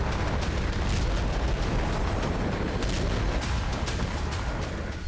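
Wartime artillery strikes produce a dense, continuous roar of blasts and rumbling booms with sharp crackling bursts scattered throughout, loud and sustained with no talk.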